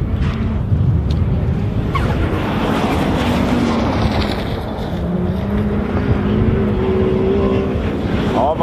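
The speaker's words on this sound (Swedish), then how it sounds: "Ja, man hör det V8 ljudet då Ove Salmonsson åker förbi här på rakan." The V8 engine of an ice racing car roars past on a straight at a race in Kalix, a loud sustained drone that rises and falls in pitch under heavy wind noise.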